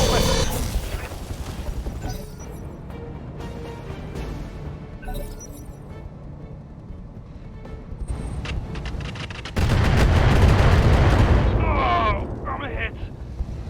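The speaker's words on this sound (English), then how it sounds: "Firing all weapons." A BattleTech mech unloads all its weapons in a heavy barrage of booming cannon and explosive blasts, building to a loud, dense roar near the end amid steady rumbling.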